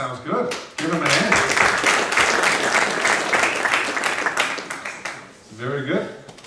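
Audience applause at a workshop, a dense burst of clapping that swells and then fades, with voices talking briefly before and after.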